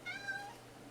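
A pet cat named Smudge gives a single clear, drawn-out meow up close, its tone sliding downward before fading into quiet room noise.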